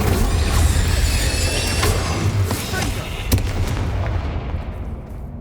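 The Incendio fire spell is cast in the game Hogwarts Legacy against attacking spiders. It is a dense, loud roaring blast with crackling bursts that fills the whole stretch and fades slightly at the end.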